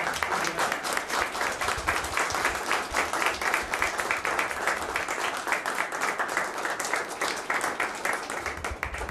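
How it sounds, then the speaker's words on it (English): An audience at a business breakfast claps steadily and fairly loudly for the mayor, a dense patter of many hands lasting throughout with little variation. "Let's have a great round of applause for our mayor."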